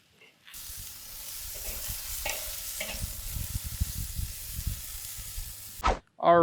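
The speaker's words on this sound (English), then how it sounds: "I've got the tenders on the hot side of the grill now. Just trying to sear them up and cook them all the way through." Chicken tenders searing over the hot side of a Weber kettle grill give a loud, steady sizzle and hiss that runs almost unbroken for several seconds, ending with a couple of brief clattering sounds.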